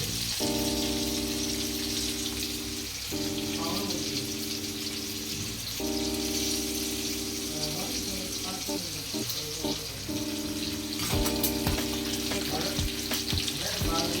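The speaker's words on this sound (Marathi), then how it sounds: "हे पहा मी अशा तेलामध्ये सोडून घेतलेले आहेत" Semolina-coated Bombay duck fish frying in hot oil, a steady broadband sizzle running throughout with soft bubbling crackles, close and moderately loud, while faint tonal background sounds hum underneath.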